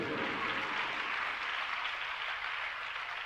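An assembly at a Jain religious discourse by Acharya Samay Sagar Ji Maharaj gives a sustained round of applause, a soft, even patter of many hands heard from a distance, with no talking.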